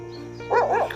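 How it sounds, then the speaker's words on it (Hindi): A large dog outdoors near a Harappan-era mound gives a single short bark, fairly close and clear over a faint background hum. "वहाँ पर सामने कुत्ता भौंक रहा है, बड़ा ही खतरनाक कुत्ता है वो।"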